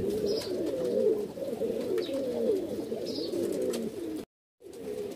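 Pigeons at a sale in Bhopal coo steadily in a low, dense chorus throughout, with a brief gap of silence near the end before the cooing resumes.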